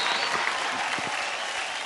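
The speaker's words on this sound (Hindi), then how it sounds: "जोरदार तालियां हो जाए।" A short burst of studio audience applause on a televised dance competition show, dense clapping from many people lasting under two seconds with a few louder individual claps.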